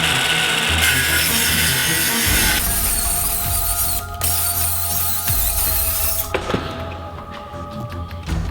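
A power saw cuts steadily through sheeting along a straight edge for a shop build, a loud, continuous close-up whine and rasp that holds for several seconds with small shifts in pitch as it runs, and no talking.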